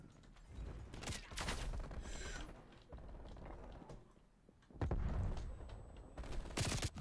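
Mac10 submachine gun fire in a shooter video game, quick rattling bursts separated by pauses, with a louder close burst near the end, fairly quiet overall.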